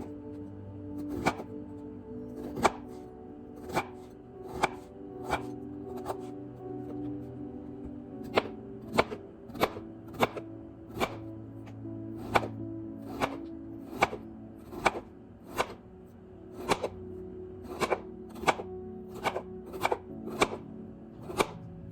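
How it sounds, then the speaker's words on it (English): Knife slicing potatoes on a cutting board, sharp chops striking in a steady, fairly even rhythm, close and clear, no talking. "I'm just going to slice up all my potatoes and put them in my skillet with the oil and butter"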